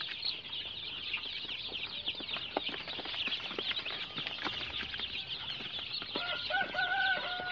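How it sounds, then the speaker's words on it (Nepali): Local village chickens and their chicks clucking and peeping on a small Nepali poultry farm, a busy overlapping chorus of soft clucks with thin high chick cheeps rising near the end, close and continuous without talk. "चल्ला यो लोकल कुखुरा हो, लोकल कुखुरा अलिअलि गरेर खानुहुन्छ"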